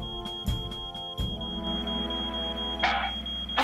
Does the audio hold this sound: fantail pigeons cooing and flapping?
no